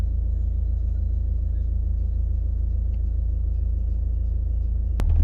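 Steady low drone from the 2.2 i-DTEC diesel engine of a 2012 Honda Accord, a smooth, constant rumble. A brief sharp click comes near the end.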